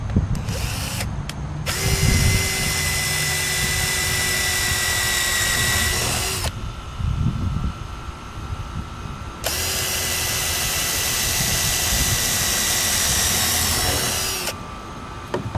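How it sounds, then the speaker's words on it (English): A power drill drilling pilot holes in 2x4 wood whines loudly in two long bursts, each several seconds, separated by a short pause with lower rumbling. "go ahead and take your drill your 2 pilot holes right here."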